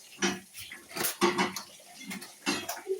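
A serving plate is handled in a home kitchen, giving several quiet clinks and clatters of dishware and cutlery in short irregular bursts, close by, with no talking.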